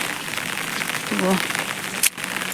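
Heavy rain at Agartala airport makes a constant hissing wash, with a brief voice heard partway through.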